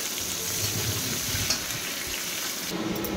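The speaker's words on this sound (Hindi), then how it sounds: "पियाज को टिके तेल रे भलो भाबे भाजबा" Chopped onion fries in hot oil for an Odia prawn curry, giving a steady close sizzle with occasional stirring and no voices.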